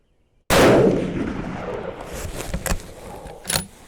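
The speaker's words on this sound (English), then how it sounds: "I'm going to shoot the rest of this Hornady factory ammo I have just to make sure everything's functioning okay" A 6.5mm Creedmoor rifle firing Hornady factory ammunition at a shooting range lets off one loud, sharp shot that booms and decays, followed by a few faint mechanical clicks.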